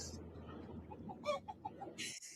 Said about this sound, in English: And then you hear the chicken in the background.